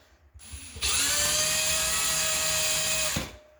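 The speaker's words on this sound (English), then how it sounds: "So that's all I'm doing is drilling it forward to get the hole in there." A hole saw bores through drywall for a can light, the steady high whine rising abruptly, holding for about two seconds, then cutting off with no talk.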